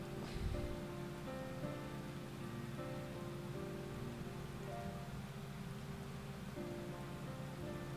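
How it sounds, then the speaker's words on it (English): Steady rain falling in the fantasy game FFXIV Dawntrail, a soft continuous hiss layered over quiet ambient tones and a gentle musical drone, with no voices. "And of course it starts to rain."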